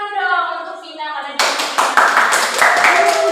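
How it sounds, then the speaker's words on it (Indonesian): Classroom clapping for a pupil named Vina in an inspirational-text lesson starts partway through, a burst of several hands clapping after a voice speaks, continuing steadily to the end. "Tepuk tangan dulu dong untuk Vina"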